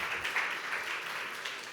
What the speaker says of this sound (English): Big applause for Luca.